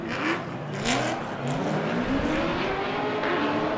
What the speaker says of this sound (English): He's got that 2005 Chevy Corvette, powered by an LS3 with about 800 horsepower